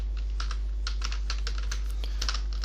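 Irregular bursts of clicking keystrokes on a computer keyboard, close and clear over a low steady hum, with short pauses between quick runs of typing.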